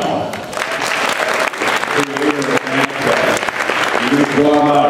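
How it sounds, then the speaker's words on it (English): A convention panel audience at MAGFest applauds, a dense wash of clapping from many hands building and continuing throughout, with speech mixed in beneath. "who you should all applaud for right now"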